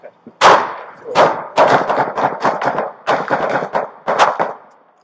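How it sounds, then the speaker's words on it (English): Gunfire during a police incident involving an officer's rifle, a rapid burst of more than a dozen loud sharp shots in irregular succession over about five seconds, close and echoing. "we got shots fired."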